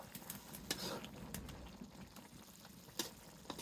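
Fish simmering with leafy greens in a pot, a soft, quiet bubbling with occasional sharp clinks and pops.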